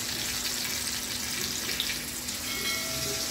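Stuffed pomfret frying in a pan, a steady broadband hiss of oil sizzling continuously and evenly at close range with no speech over it.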